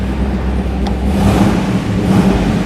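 A loud, deep V8 engine of a 2021 AC Cobra 378 rumbles and burbles steadily close by, its throaty low tone swelling slightly, with no voices.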